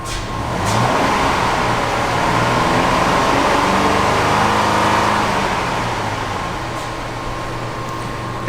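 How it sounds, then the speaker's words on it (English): A Dodge Journey engine revs up with the O2 sensors swapped before and after the catalytic converter, a steady loud drone holding high for several seconds before easing slightly. "Let's rev it up and see what happens."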